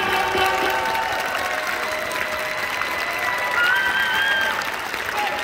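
An audience applauds dance couple number 13 at a junior world championship Latin final, dense sustained clapping from a large crowd filling the hall, with an announcer's voice faintly over it.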